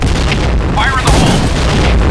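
A grenade detonates in a video game, a loud booming blast with a sharp burst and rumbling tail, preceded by brief crackling game sounds.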